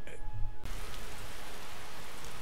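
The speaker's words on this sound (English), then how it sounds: "Oh, is it because it's raining?" Steady rain falls in the video game Skyrim, a dense, even hiss that starts abruptly after a brief quieter moment and holds at constant loudness.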